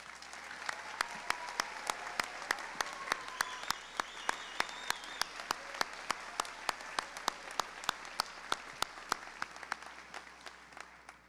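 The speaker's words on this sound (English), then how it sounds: "Mrs. Angie Byer, would you step back out front, please, and receive a round of applause?" A round of applause at a community scholarship night, heard as many individual claps spaced fairly evenly over a soft bed of wider clapping, fairly faint and continuous across the whole stretch.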